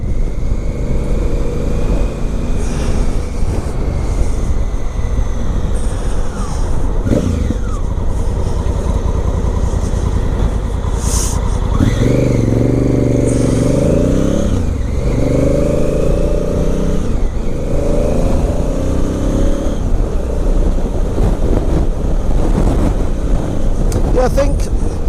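A 2017 Honda Africa Twin motorcycle rides along a road, its engine rumbling steadily under wind noise and someone talking, with a louder throttle swell partway through.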